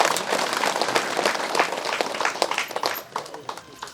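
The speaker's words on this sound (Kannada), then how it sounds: "ನಮಗೆ ನಾವು ಒಂದ್ಸಾರಿ ಜೋರಾಗಿ ಚಪ್ಪಾಳೆ ಹೊಡ್ಕೊಳ್ಳೋಣ" A seated crowd at an eighth-anniversary pyramid meditation function in Somasamudra village, Ballari, breaks into loud, dense applause that gradually thins and tapers off, with voices mixed in.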